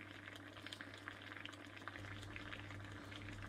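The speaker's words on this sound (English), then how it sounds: "Nah, that's boiling everywhere now. That is absolutely boiling." Water rolls to a boil inside a cheap Chinese electric water boiler, giving a faint, continuous bubbling and hissing with no talking.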